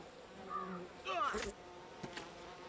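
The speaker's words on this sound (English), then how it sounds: "No bees? There's bees." Bees buzz in the video game We Happy Few, a faint, wavering drone mixed with other quiet game sounds and brief sweeping tones.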